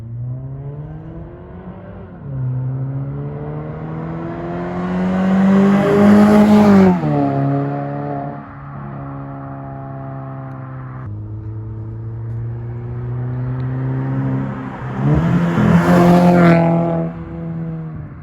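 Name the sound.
2015 Mazda 6 straight pipe single exit exhaust revving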